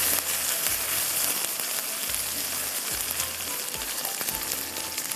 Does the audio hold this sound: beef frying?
yes